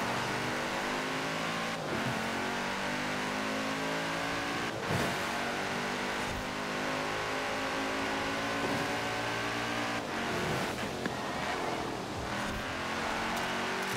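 A race car engine in Forza Horizon 4 revs hard and accelerates, a dense loud snarl climbing in pitch and dropping sharply at each gear shift, continuous throughout.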